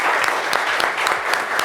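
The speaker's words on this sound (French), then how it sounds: "Applaudissements pour Shekina." Audience applause at a live talk show, a steady dense patter of many hands clapping close by for the whole short stretch, with no talk over it.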